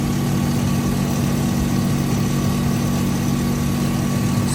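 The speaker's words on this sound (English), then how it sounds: "Compressor's engaging now." GMC Yukon engine idling steadily with its A/C compressor engaged, a loud, constant low hum and drone with a faint whine, no voices.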